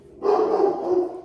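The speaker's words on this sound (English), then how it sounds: "Here goes my dog again." A dog barks in one sustained, rough bout lasting about a second, loud and close, with no talk over it.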